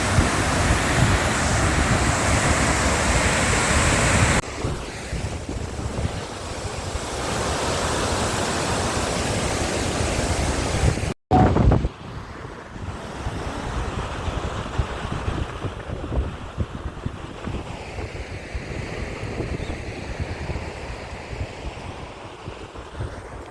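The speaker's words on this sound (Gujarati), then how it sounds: "આ ડેમની અંદરની સાઈડ છે અહીંથી પાણી પડે છે" Steady, loud rushing of water pouring over the overflowing Bhakharvad dam, a continuous roar with a brief break partway through, no voices.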